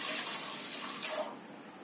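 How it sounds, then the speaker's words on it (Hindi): Water poured into a large metal steaming pot for making idli, a steady splashing rush that fades slightly toward the end, soft and close with no talk. "पानी डालेंगे"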